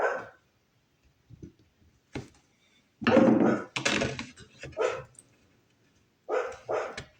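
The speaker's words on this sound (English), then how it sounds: "Sorry about the dog barking." A dog barks in sharp, loud bursts, some single and some in quick clusters, with short quiet gaps in between and no voices heard.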